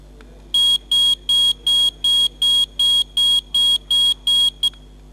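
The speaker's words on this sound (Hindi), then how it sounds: "हमने डिवाइस के अंदर इनबिल्ट सायरन दिया हुआ है जी" A GSM gas leakage sensor device sounds its built-in siren as a sharp electronic beeping alarm, about eleven evenly spaced loud high-pitched pulses in a steady rhythm over a low background hum.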